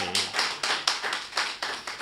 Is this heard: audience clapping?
yes